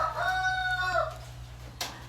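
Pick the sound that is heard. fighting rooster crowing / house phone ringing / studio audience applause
fighting rooster crowing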